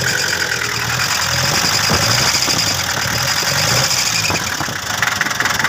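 A diesel engine idles steadily after a stuck injector nozzle tip has been dealt with, running with a close, continuous mechanical clatter and rumble.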